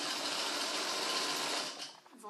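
Close sewing machine hum as trouser side seams, basted in advance, are stitched in one continuous run that drops away near the end; a voice can be heard faintly under the whir.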